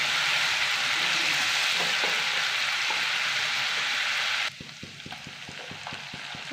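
Dried chilli with crushed ginger and garlic frying in hot oil: a loud, dense sizzle that drops sharply toward the end, leaving quieter crackling with scattered light taps and clicks close by.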